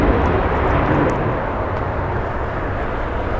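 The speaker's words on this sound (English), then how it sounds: "Textbook crosswind arrival." An airliner landing in a crosswind at LAX gives a loud, broad jet roar that slowly fades as it passes, with no voices over it.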